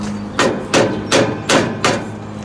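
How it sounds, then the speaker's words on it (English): A rubber hammer taps a turbo exhaust pipe on a '97 Freightliner FLD with a Detroit 12.7 engine, giving five dull, evenly spaced knocks close by with no talk. "just tapping on it up here with the rubber hammer"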